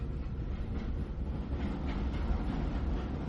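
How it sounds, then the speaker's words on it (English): A train rolls along the tracks with a continuous low rumble and dense rattling, steady and fairly loud from start to finish, with no voices. "the train that chugs along them"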